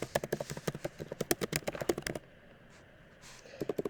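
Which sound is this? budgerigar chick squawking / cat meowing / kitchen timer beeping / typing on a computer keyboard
typing on a computer keyboard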